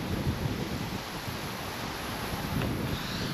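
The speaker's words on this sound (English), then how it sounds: "The wind is going fucking spastic." Constant, heavy wind buffeting an outdoor microphone, a dense rumbling roar with no pauses and no voices.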